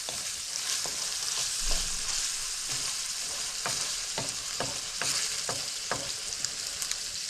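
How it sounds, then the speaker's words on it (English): Minced meat for chilli sizzles and fries in a pan, a steady close crackle punctuated by scattered pops and scraping stirs, with no talking. "this is starting to fry now quite nicely"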